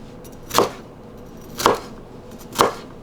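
A knife chops through bell pepper on a cutting board for a stir-fried kung pao chicken, three crisp, evenly spaced chops about a second apart, close and clear with no talk.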